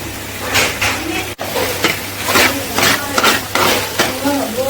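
Goat meat frying in oil in a pan for a Telugu-style dry curry, stirred steadily with a spoon that scrapes and clinks against the pan over a constant sizzle, close and fairly loud.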